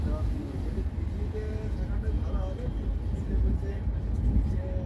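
A steady low rumble fills a carriage on a moving passenger train, a constant, even drone with no clear breaks or surges.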